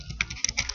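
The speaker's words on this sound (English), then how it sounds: "I'll just type a fake email." Quick run of keystrokes on a computer keyboard as an email address is typed, a handful of close, crisp clicks in an uneven rhythm with no voices.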